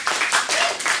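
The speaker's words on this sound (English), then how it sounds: "Clap and cheer if you want to see us do a horror movie." A comedy club audience at an improv show applauds and cheers, a dense, steady wash of many hands clapping with voices mixed in throughout.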